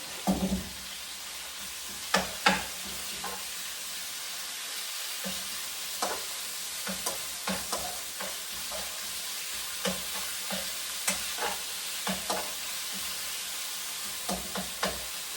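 Pork frying in a pan while it is stirred for a pumpkin potato stew, with a steady low sizzle and scattered sharp utensil scrapes and clicks repeating through the whole stretch, close by and with no talking.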